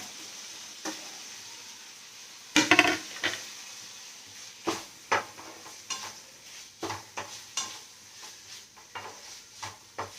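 A spoon scrapes and clanks through chicken sausage frying in a pan with tomato, a louder clatter early then steady irregular stirring knocks over a soft sizzle.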